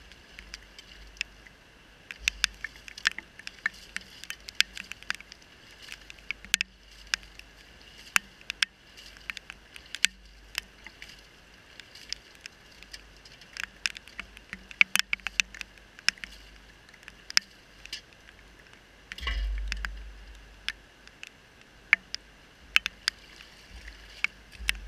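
Gravel shaken through a 1/8 inch screen for a small home gold sluice gives faint, scattered patters and clicks, fairly close, with a brief rougher burst near the end.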